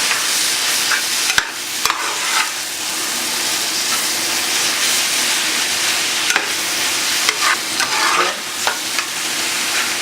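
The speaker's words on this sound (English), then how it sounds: "Flipping noodles into the egg and flipping it again." Noodles being flipped and fried with egg in a hot pan, a loud continuous sizzle with occasional sharp clanks and scrapes from the spatula, close up with no voices.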